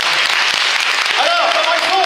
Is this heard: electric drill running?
no